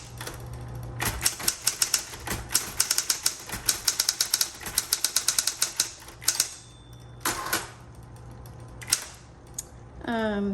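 A 1960s Smith Corona Coronet Automatic 12 typewriter is typed on in quick bursts of sharp key strikes, then pauses for a few carriage and mechanism clunks, with a whirring return near the end, close-up.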